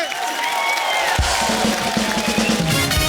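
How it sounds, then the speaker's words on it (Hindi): A studio audience on The Kapil Sharma Show applauds and cheers as guests Pawan Singh, Khesari Lal Yadav and Rani Chatterjee arrive, a steady wash of clapping and crowd noise with music playing underneath. "वो क्या बात है, तालियां रुकनी नहीं चाहिए।"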